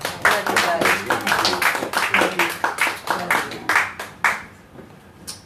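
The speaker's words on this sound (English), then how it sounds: "why don't you give the Lord a hand clap for our friend Jonathan Martin?" Church audience clapping in a Nashville gathering, sharp individual hand claps in a loose, uneven rhythm that thin out and fade to a few scattered claps near the end.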